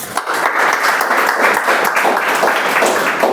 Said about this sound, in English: So welcome Abhinish with a round of applause,